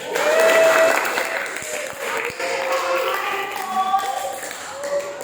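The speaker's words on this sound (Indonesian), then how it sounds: "berikan aplaus sama sekalian" A class applauds in a classroom, a burst of clapping that stays steady for several seconds with a few louder thumps mixed in.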